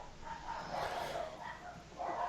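Dogs yip and bark from inside a house, apparently at someone passing outside, in a few short bursts at moderate distance with a faint voice underneath.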